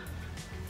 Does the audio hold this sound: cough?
yes